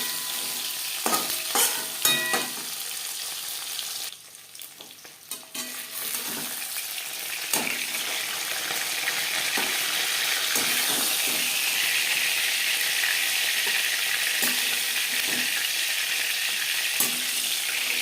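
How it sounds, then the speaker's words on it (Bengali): Snakehead (shol) fish sizzling steadily as it fries in oil, with scattered clicks and scrapes early on, then an even, continuous crackling hiss. "একটা সাইড ভাজা হয়ে গেলে অপর সাইডটা উল্টে দেবো।"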